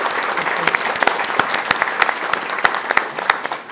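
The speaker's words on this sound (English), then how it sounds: "close our celebration today with a round of applause for Centennial Committee" An audience at a centennial celebration claps for the Centennial Committee, a dense, steady round of applause from a crowd.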